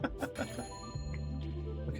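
Bells ringing in a video game, several bright chimes struck in quick succession at the start, then a sustained resonant ringing tone that hangs on to the end, fairly close and clear.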